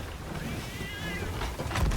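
A cat meows in a video game, a short, wavering cry heard over a dense, noisy game soundscape.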